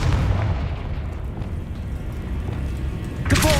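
A Confringo fire spell blasting in the video game Hogwarts Legacy, a deep booming explosion rumbling steadily throughout, with a sharper burst near the end, loud and close.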